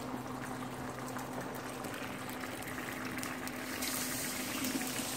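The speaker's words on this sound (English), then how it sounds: "You hear it boiling?" Steady low bubbling and fizzing of dry ice in water, a continuous gentle churn that grows slightly louder toward the end, with no voices.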